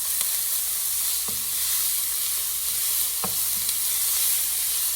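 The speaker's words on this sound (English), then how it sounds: "You want to stir this often until the onions and celery are soft" Onions and celery sautéing in a pot for broccoli cheese chowder, a steady bright sizzle with a few soft knocks of a spoon stirring, close and continuous, no voices.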